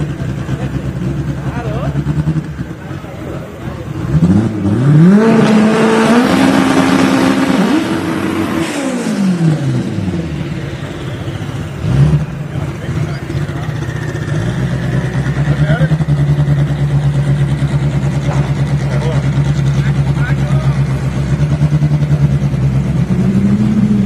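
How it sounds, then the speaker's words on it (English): A drag racing car at a motorsports strip revs and accelerates hard with rising engine pitch, loud and near for several seconds, then a lower engine drone continues while an announcer talks over it. "Here comes our next car"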